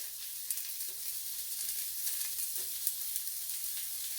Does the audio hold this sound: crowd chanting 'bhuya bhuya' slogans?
no